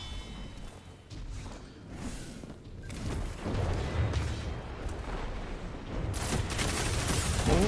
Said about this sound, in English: So many fucking SMGs, bro. I can't fight them.